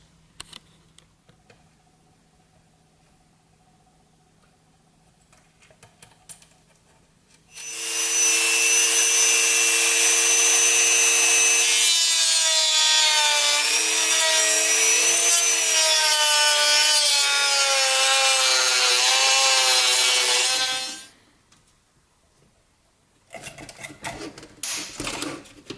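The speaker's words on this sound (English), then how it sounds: "I have a Dremel, and so I'm just gonna go ahead and cut off all these mounts" A Dremel rotary tool cuts off plastic speaker mounts from an Audi A4. There is a loud, steady high-pitched whine with a wavering grinding tone for about thirteen seconds, then it stops. There is no talk.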